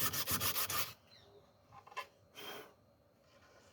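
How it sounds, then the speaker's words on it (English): Sandpaper rubs by hand across a wooden drawer in a rapid run of rhythmic strokes, then pauses for quieter scattered scrapes and a couple of isolated rubs, all close and without speech. "So, like I said, sandpaper, doing it by hand."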